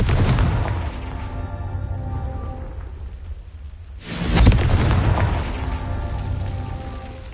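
A Confringo fire spell blasting in Hogwarts Legacy on PS5, heard as a sudden loud boom about midway that rolls off into a low rumble over a continuous dark, stormy game ambience.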